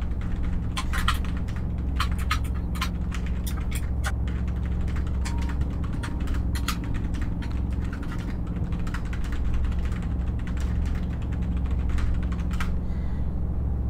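Rapid irregular clacking of keys on a computer keyboard, close and continuous over a steady low hum, with no talk.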